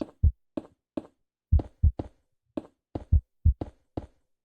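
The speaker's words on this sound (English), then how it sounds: "I'm sorry about the whole heart beating thing." A heartbeat sound effect in the Minecraft game Cobblemon, with steady paired thumps, lub-dub, repeating about every half second, close, soft and alone.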